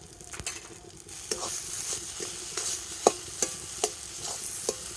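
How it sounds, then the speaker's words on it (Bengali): Salted potatoes are stirred and mixed in a pan, a low frying hiss punctuated by a regular series of crisp spoon-on-pan knocks and scrapes, close and clear. "আলুটা কিন্তু একটু ভালো করে এইভাবে মিশিয়ে নেব"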